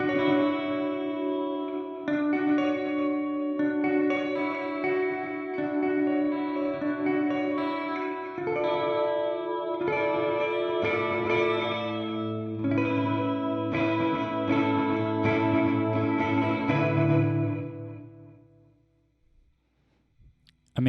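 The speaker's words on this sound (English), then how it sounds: "it's technically a delay, although it's marketed as a reverb." Electric guitar played through a delay pedal sold as a reverb, set to its Focus patch, ringing out in sustained chords and notes washed in lush echoes and shimmer for most of the take, then fading into a long decaying tail near the end.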